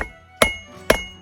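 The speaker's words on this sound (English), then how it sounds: "So here I'm just trying to take out any deep hammer marks that are in it." Hammer striking hot steel on an anvil while forging a blacksmith knife, smoothing out deep hammer marks: two sharp, ringing metallic blows about half a second apart, close and loud.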